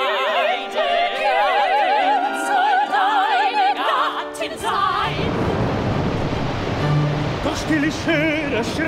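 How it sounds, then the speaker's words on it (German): Staged rushing-water effect in an open-air Magic Flute production, starting under sustained orchestral tones and swelling around the midpoint into a loud, dense roar like a waterfall and distant thunder. "Ich höre schrecklich rauschen, wie Donner, Ton und Wasserfall"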